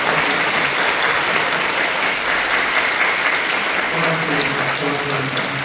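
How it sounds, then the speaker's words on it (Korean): A congregation at a Friday overnight prayer meeting applauds warmly for its youth and college students. Loud, full, sustained clapping from many people fills the space, with faint low voices or music joining toward the end. "우리 청소년들, 우리 대학 청년들 사랑하고 축복하는 마음으로 우리 뜨겁게 박수를 전합니다."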